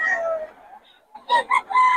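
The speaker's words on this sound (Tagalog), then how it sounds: "Manok ni Boss Perry ngayon, mga idol." A chicken clucks and calls loudly up close in a few short, sharp bursts after a brief drawn-out squawk.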